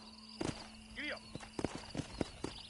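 Horse hooves clip-clop at a walking pace in the Red Dead Redemption video game, a close, even run of hoof beats with a short whinny-like call early on and a voice speaking over it.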